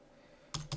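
Typing on a computer keyboard while entering a web address in LibreOffice Writer; a quiet pause, then a quick cluster of three or four close key clicks.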